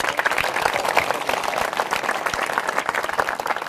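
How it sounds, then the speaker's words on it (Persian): An audience at a religious lecture by Sheikh Mohammad Saleh Pardel breaks into brisk, dense applause, a steady wash of many hands clapping throughout with no break. "تشویق بفرمایید"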